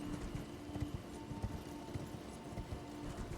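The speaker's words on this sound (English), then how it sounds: "Greatest horse in the lands between." Torrent, the spectral horse in Elden Ring, trots along with rhythmic, evenly spaced clip-clop hoofbeats over a soft ambient bed, moderately faint and steady throughout.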